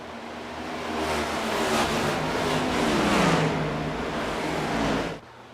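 A field of race cars roars past on the track, engines blending into a sustained loud, rising and falling whine that cuts off abruptly near the end.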